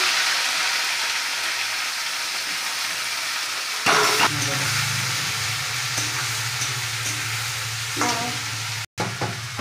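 Nigella seeds hit hot oil with a sudden burst of sizzling that settles into a steady, close crackle and hiss, with a faint stir midway and a brief dropout near the end.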